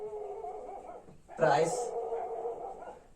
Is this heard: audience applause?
no